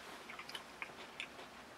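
Quiet, close chewing of crunchy Sonic the Hedgehog POP! cereal with milk, a few soft crisp crunches spaced irregularly over a brief moment with no talking.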